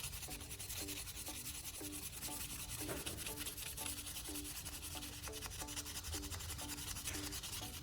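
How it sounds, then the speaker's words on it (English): 400 grit sandpaper with toothpaste scrubs rust off the blades of pruning shears, giving close, rhythmic back-and-forth rasping strokes in quick repeated bursts with no talk. "I'm using a piece of 400 grit sandpaper to scrub away the rust"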